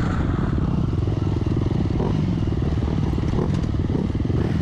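Racing motorcycle engine at a track event revving hard, loud and close, a steady buzzing drone held throughout with rough mechanical clatter and no talk.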